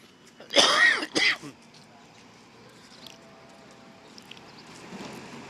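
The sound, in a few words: cough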